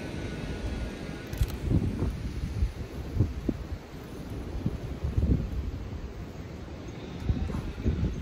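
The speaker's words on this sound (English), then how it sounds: "That wind is brutal." Strong wind blows outdoors at a beehive, rumbling and buffeting the microphone in uneven gusts, loud and close, with no clear talk.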